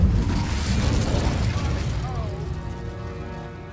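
An Incendio fire spell blasts in the video game Hogwarts Legacy: a loud, booming burst at once that slowly fades into a rumbling, crackling tail.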